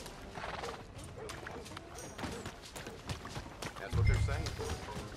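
Horse in Red Dead Redemption 2 galloping with rapid hoofbeats and rustling movement, ending in a loud close whinny-like burst near the end, with busy game sounds throughout.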